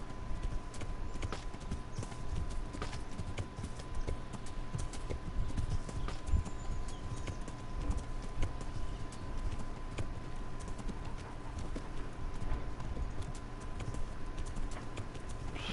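Steady clip-clop of horse hooves trotting, rhythmic and fairly close, over a constant low ambient hum with faint bird chirps, in the video game Kingdom Come: Deliverance.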